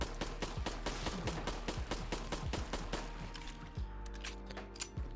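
An HK USP pistol fires at a Deathclaw in a modded Fallout 4: a quick string of sharp, evenly spaced shots, then a pause before a few more spaced shots, with no talking.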